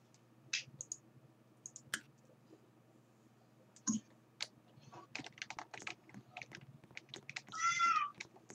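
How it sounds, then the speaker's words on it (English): A cat meows indoors at home, a long, fairly loud call near the end, following scattered clicks and soft tapping like keyboard typing; no one talks. "See, I can hear someone meowing."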